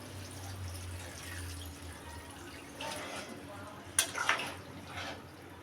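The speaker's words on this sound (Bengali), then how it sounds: "আমি একটু জলও দিয়ে দিয়েছি আর একটু জল দিয়ে দিচ্ছি পরিমাণ মতো" Water splashes into a pan of spiced jackfruit and potato curry in a home kitchen, with a couple of short, fairly soft pouring bursts over a low steady hum.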